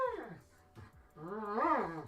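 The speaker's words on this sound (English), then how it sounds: "This is the sound of a Malamute." An Alaskan Malamute howls and whimpers in rising and falling wails, a short moan followed by a longer, louder, drawn-out vocal howl, close and fairly quiet.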